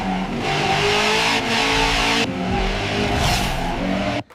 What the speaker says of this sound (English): night scene, two cars racing down the street